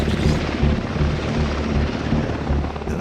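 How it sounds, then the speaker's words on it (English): A mountain rescue helicopter flies close by with a steady, loud rotor thump and engine roar that fill the scene with no talking. "The helicopter airlifts a mountain rescue team as close as they can get to the ridge."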